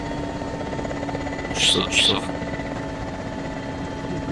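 Helicopter flying in ArmA 2, heard from inside as a steady drone with a constant rotor hum throughout, while a voice talks briefly over it.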